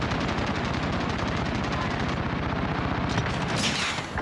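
Rapid, continuous automatic gunfire in the Modern Warfare video game, loud and dense, with heavy bursts rattling without pause for several seconds and briefly tapering at the end.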